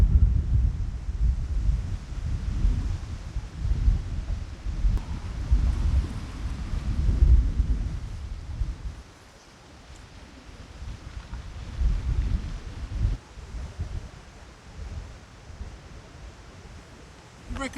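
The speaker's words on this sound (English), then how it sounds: "that was gusting 30 mile an hour" Strong gusting wind on the Essex coast at West Mersea during a November storm. It buffets the microphone in heavy, rumbling surges, eases off for a moment, then rises again, and voices can be heard faintly beneath it.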